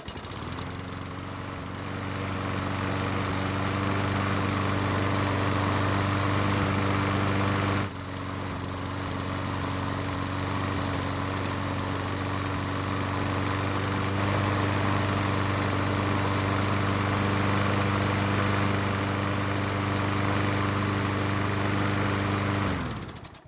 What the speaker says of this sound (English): Now the engine on this mower was experiencing some issues during hot starts